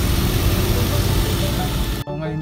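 A car engine idles steadily after a head gasket sealer has been poured into the radiator, a loud, even mechanical drone that cuts off abruptly near the end.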